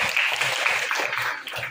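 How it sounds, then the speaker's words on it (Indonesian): A class of students applauds a classmate, a brisk, fairly close burst of many hands clapping together that continues steadily through the short stretch. "tepuk tangan untuk Aulia"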